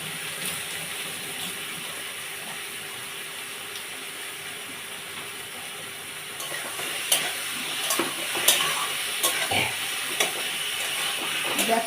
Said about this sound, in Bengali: এটা নিয়ে ফেলে ভেজে নেব, মশলাটা কষে নেবো ভালো করে।